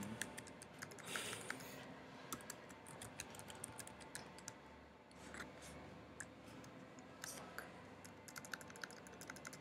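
Rapid clicking of typing on a Mac computer keyboard during a Linux system administration session, a steady patter of keystrokes with a few brief louder bursts throughout.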